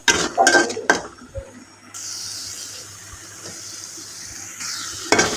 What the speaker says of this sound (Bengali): এর মধ্যে দিয়ে দিলাম টমেটো কুচি